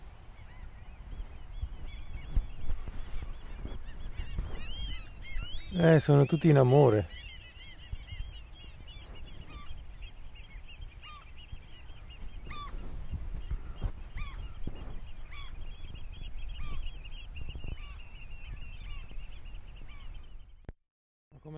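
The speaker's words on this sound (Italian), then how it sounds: "Hai mai sentito così tanti uccelli?" A Norwegian outdoor scene where a loud burst of honking, goose-like bird calls rises briefly among many birds, while people talk through most of the clip.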